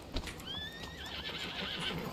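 A horse whinnies in a rising, wavering neigh, fairly close, over a low background hum with a soft thump at the start.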